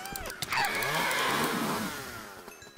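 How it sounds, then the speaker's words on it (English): A Minecraft chainsaw gives a loud, sustained whirring buzz with sweeping pitch, roaring up after a brief start and then tapering toward the end. "Don't use your chainsaw, it's too overpowered."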